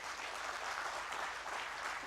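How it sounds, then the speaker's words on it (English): A convention audience at the Kerala Management Association's annual national management convention gives a dense, continuous round of applause, faint and distant, steady for a couple of seconds with no voices. "deserves a very, very big applause from all of us"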